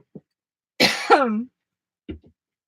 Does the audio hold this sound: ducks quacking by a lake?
no